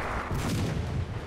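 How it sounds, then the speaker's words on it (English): A bomb or rocket blast from an A20 aircraft in a video game, a short dense low rumble that swells and fades over about a second, heard alone. "A20 just tried to bomb me or rocket me."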